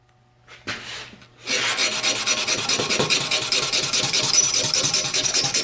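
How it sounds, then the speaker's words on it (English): A brief scrape, then steady rhythmic rasping as a Lexan edge is rubbed back and forth on sandpaper, close and fairly loud, strokes evenly paced. "we're going to sand the edges of this Lexan smooth"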